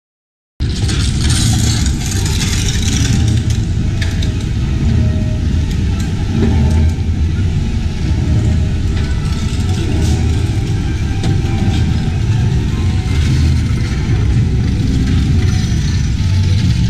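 Treasure Hunt ride vehicle at Universal Studios Singapore: a loud, steady motor drone with a broad rumble that runs continuously for the whole stretch, close by, with no talk over it.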